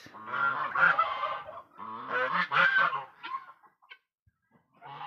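Lavender guinea fowl call out in a backyard flock, loud nearby honking, cackling bursts in two long phrases followed by shorter scattered squawks.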